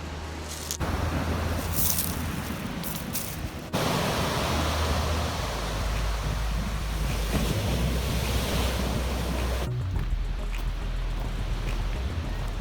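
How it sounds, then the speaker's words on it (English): Ocean surf rolls onto the coast at Olympic National Park, a loud, steady roar of breaking waves mixed with heavy wind buffeting the microphone, continuous throughout with a few abrupt gusty shifts. "made it to the coast"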